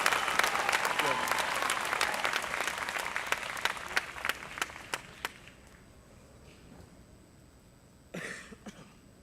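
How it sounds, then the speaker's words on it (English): Loud audience applause at a high school graduation ceremony, with dense clapping that gradually thins and fades, followed by a brief rustle of noise near the end. "Let's give them all one more round of applause."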